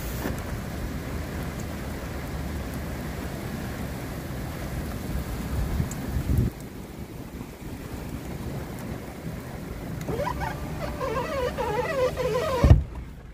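Strong wind blows over ocean waves during a rainy, lightning-filled storm, a loud continuous roar with gusts and rumbling, cut by a brief dip before the noise builds again; no talking.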